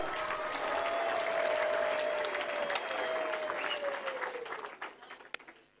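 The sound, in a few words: congregation applauding in church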